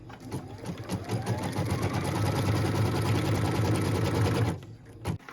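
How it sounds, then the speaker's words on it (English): Sewing machine stitching the tack-down line on a pieced quilt block, a steady close mechanical whir of rapid stitches that stops abruptly near the end, followed by a brief click. "What we're stitching now is the tack down line for piece number 3."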